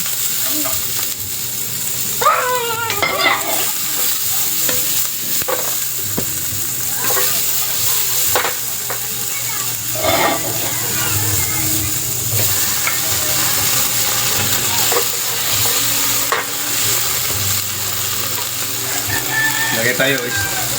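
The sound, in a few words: sautéing in a pan for baby octopus and okra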